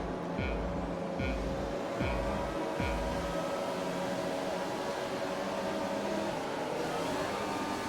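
Formula 1 race cars launching off the grid at the French Grand Prix in F1 2020: several engines rev up in a row with a few rising bursts early on, then settle into a steady, layered engine drone.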